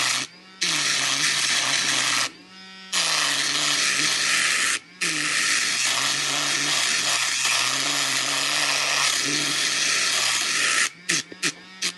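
A small electric nail drill with a sanding cylinder whines at high speed in long continuous bursts, bogging down, briefly cutting out twice and stuttering off at the end.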